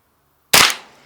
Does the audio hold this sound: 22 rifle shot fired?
yes